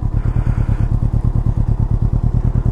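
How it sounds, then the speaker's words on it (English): A Can-Am Ryker 600 three-wheel motorcycle idles with a rapid, even twin exhaust pulse, close and loud, no voices present. "Listen to that lovely twin exhaust note."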